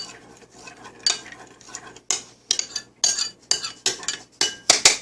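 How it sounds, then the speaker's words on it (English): A spoon scrapes and clinks around a bowl of thick homemade yogurt, stirring in quick uneven strokes that grow sharper and more frequent toward the end, close and without talk. "let me finish stirring this up"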